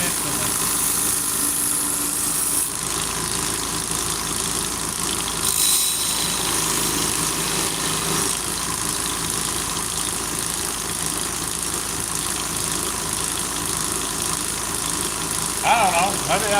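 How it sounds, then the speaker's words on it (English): Steady, loud grinding drone of a Scotch-Brite quartz belt sander stripping an acid stone wash finish, running continuously close by under a voice. "Scotch-Brite quartz belt will strip it off almost instantly"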